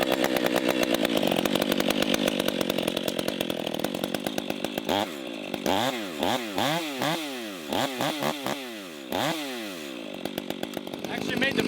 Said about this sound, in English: I'll cut at least a third of the way through from the bottom and then finish the rest of it